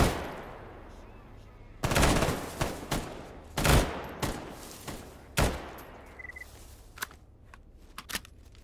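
Bursts of gunfire from the STALKER GAMMA video game, several loud sharp volleys and single shots spread over the stretch, some rapid and clustered, set against a steady low background rumble.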